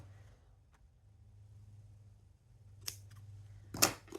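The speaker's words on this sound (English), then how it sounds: "So I'm going to cut." Scissors cut fabric for a junk journal in a quiet room, with two short, crisp snipping bursts near the end after a low, steady background hum.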